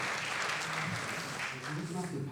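Audience applause at a seminar, a dense continuous patter of clapping from a room of people, steady and moderately loud throughout the short burst.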